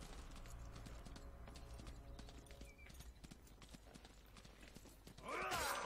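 Horse hooves clip-clop in a steady rhythm in the medieval combat video game Tiger Knight: Empire War, moderately close, before a louder burst of game noise at the end.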